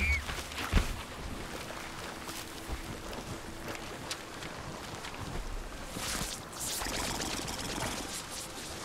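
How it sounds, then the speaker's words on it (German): Water pours and rushes steadily in the VR video game Paper Beast, a continuous washing flow with small splashes that swells again near the end, with no one talking. "Es kommt Wasser, mein Freund."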